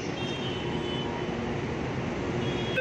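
Steady broadband rumble of a metro train in motion, a continuous, fairly loud roar with faint high whine, no voices.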